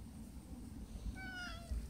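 A cat meows outdoors in a couple of short, rising calls over a steady low background hum, fairly faint and close, with no talking.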